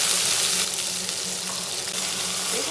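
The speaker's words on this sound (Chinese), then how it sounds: "炒一下香" Scallion, ginger and chili stir-fried in hot oil in a wok, giving a steady bright sizzle with a faint scraping stir throughout, close and fairly loud.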